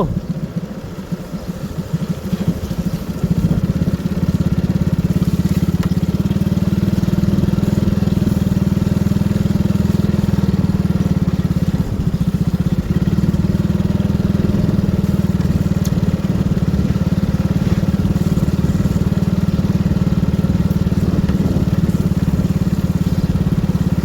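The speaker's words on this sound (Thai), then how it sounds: "ใส่รถไถใส่เกียร์เดียวเลยเด้อพี่น้อง" A steady, loud two-wheel tractor engine chugs continuously at close range in a single gear, a low droning rumble that barely changes over the whole stretch.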